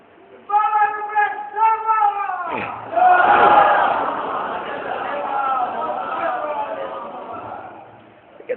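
At a religious celebration gathering, a man leads with a sustained chanted call, then a large crowd answers with a loud, collective shouted chant that swells and slowly fades.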